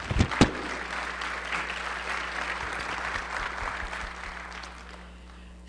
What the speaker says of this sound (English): So I'd like to offer him some applause.